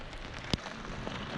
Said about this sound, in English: water's running straight off the roof there, down there, it's running along there